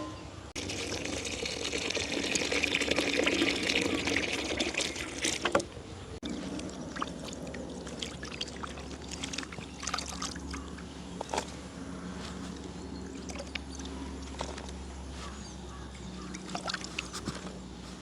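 Beans, tomatoes, shallots and green chillies are washed in a vessel of water in a village kitchen, with a loud pouring gush first, then close sloshing, splashing and dripping as the vegetables are rinsed.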